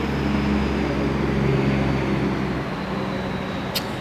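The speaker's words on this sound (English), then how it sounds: "please excuse the background noise. I actually live close to a road," Steady low rumble of traffic from a nearby road, a continuous distant wash of passing vehicles with no voices, holding fairly even throughout with a faint brief tone near the end.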